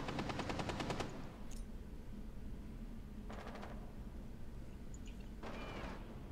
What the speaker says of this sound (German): Er hat durch die Wand geschossen